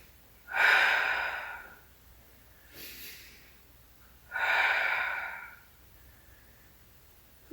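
Two deep, breathy exhalations during a shoulder mobility exercise, with a faint inhale between them, close and fairly loud in a quiet room with no talking.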